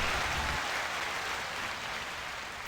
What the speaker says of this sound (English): let's put some hand claps for that